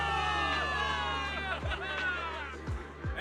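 A crowd of soldiers cheers and shouts in a victory celebration in the video game Zenless Zone Zero, a loud sustained roar of many voices with a few thumps, no single speaker standing out.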